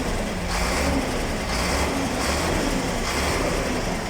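A dump truck engine is revved hard in Bodaibo, giving a loud, close, steady roar with slight pulsing surges throughout and no voices.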